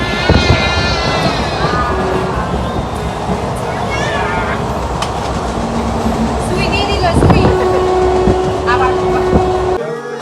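A train running on rails, with a continuous loud rumble and rattle of the carriages throughout and a sustained horn-like tone in the later part. Voices of passengers, including a child, are heard over it.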